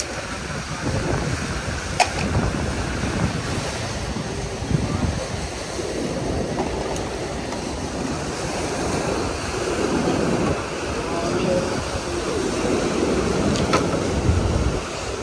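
Strong waves at high tide wash continuously along a trash-strewn shore in Metro Manila, with steady roaring surf and wind buffeting the microphone throughout.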